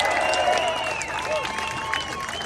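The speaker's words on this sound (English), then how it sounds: "Can I get a round of applause for them?" Crowd at an outdoor anti-immigration protest rally in Waterford, Ireland, breaks into sustained applause and cheering for marchers in Vienna, a steady broad wash of clapping mixed with voices.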